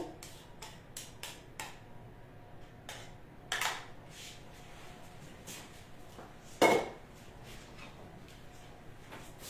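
Eggs, cream, milk and cheese are stirred together in a bowl for a crustless quiche, with quick light taps and scrapes of a utensil against the bowl, close but faint, plus a couple of louder clatters.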